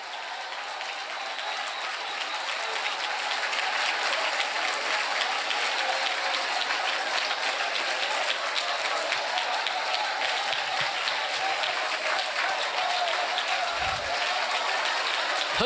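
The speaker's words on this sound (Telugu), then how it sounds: "చప్పట్లు కొడుతూ దేవుని మహిమపరచండి" A church congregation claps during Telugu worship. The dense, continuous applause-like clapping builds slightly and holds steady throughout, filling the room without clear speech.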